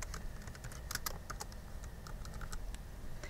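Rapid clatter of keys on a computer keyboard as a signature is typed, a steady run of close, crisp clicks with no voices.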